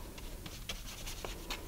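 Soft scratchy strokes of a brush spreading regular Mod Podge glue onto a paper bag, a few quick brushing swipes close by and faint, with no talking.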